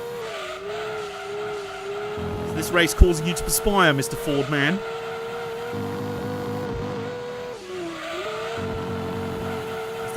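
Race cars in the Gran Turismo 2 video game, including a Ford, slide through a corner with a burst of tire squeal and skidding around the middle, over a steady engine drone while people talk throughout.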